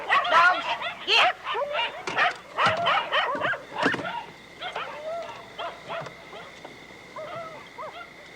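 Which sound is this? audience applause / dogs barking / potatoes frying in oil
dogs barking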